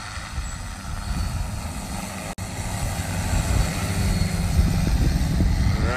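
A large heavy-lift drone flies at full speed in sport mode outdoors, its rotors producing a steady, loud, broad whirring roar that builds slightly in intensity and holds without pause.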